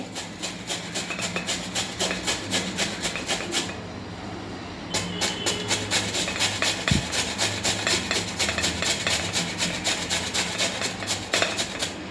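Peeled sweet potato is grated by hand in a home kitchen. Close, rhythmic rasping strokes repeat rapidly and evenly with one short pause, then continue steadily. No one speaks.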